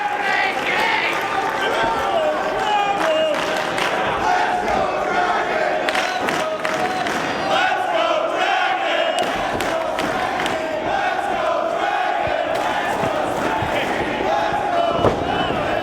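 Wrestling crowd at the Asbury Park convention center roaring steadily throughout, dense cheering and shouting with commentary voices running over it.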